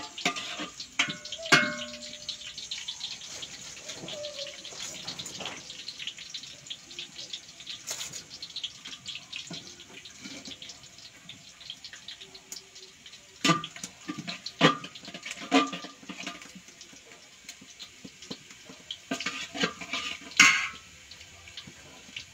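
Onions fry in a pan on a winter midday, cooked slowly until red-brown before rice goes in for chicken pulao, with a soft steady sizzle broken by intermittent scraping stirs and metallic clinks.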